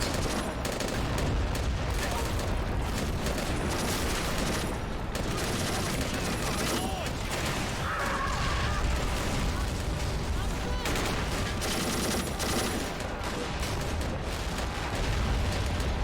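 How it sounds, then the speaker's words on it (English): Artillery and massed gunfire from a wargame battle, a dense, continuous roar of overlapping booms and shots throughout, loud and unbroken. "Let's deploy this artillery for the Reds."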